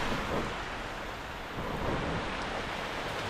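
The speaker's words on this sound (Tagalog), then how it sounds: "Maulan pa ho." Steady rain falls during a rainy-day ride, a dense, even hiss with low rumble underneath, continuous and moderately faint, with no talking.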